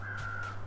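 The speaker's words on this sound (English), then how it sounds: "I hear those freaking crows." A crow caws loudly in the snowy wilderness of the survival video game The Long Dark, a single drawn-out harsh call standing alone and close over a steady low background hum.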